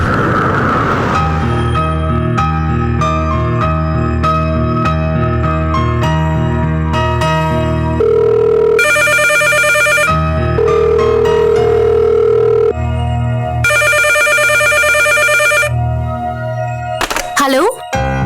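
A telephone ringing on a call home sounds as two long, bright buzzing rings separated by a pause, heard over continuous background music.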